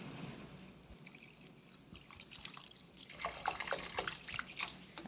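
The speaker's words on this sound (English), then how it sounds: "I'm adding a little more water." Water pours into a simmering Indian-style mackerel fish curry in a pan, a soft trickling and dripping that builds and grows louder toward the end, with no voices.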